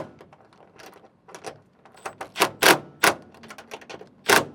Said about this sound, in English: Now I'll get these tightened down. I got a wrench on the other side just to secure the head of the bolt.